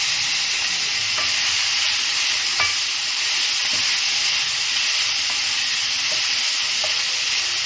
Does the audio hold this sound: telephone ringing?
no